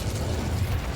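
An Incendio fire spell cast in Hogwarts Legacy gives a short, steady, roaring burst of flame, dense and low, with no voices.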